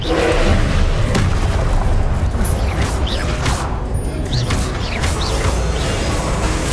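A Confringo blast spell in Hogwarts Legacy, a dense rumbling explosion with thuds and crackling debris that fills the whole stretch at close, loud volume, with a few brief higher magical whooshes on top.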